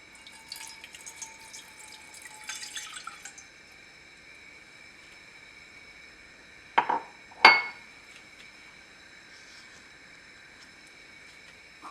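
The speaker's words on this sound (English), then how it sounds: "So we'll add in 1 cup of water." One cup of water pours briefly and fairly softly into a pot for choux pastry dough, then stops; two short clunks of cookware follow in an otherwise quiet room.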